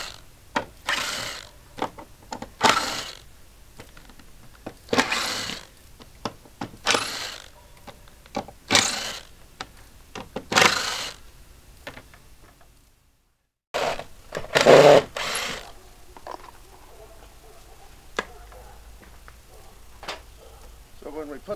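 A power screwdriver backs screws out of old cedar fence gate boards in a series of short whirring bursts, roughly a dozen spaced a second or so apart, close and fairly loud, with a brief pause midway and faint talk between.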